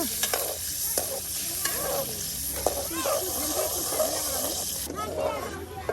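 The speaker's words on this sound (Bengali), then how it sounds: "আর এই যে এখন আপনার রসুনগুলো ভাজার জন্য এই যে আপনার চুলায় তেল দেওয়া হচ্ছে, আর এটাকে এখন এই যে ভেজে নেওয়া হচ্ছে" Chopped garlic frying in oil over an outdoor cooking stove by a riverbank, a close hissing sizzle with stirring scrapes under a person talking throughout.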